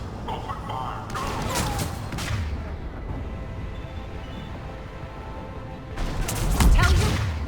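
Gunfire and explosions from a space battle in the video game Mass Effect 3, heard as dense booming salvos and crashes that swell loud, ease off into a rumbling lull, then surge again with heavy impacts.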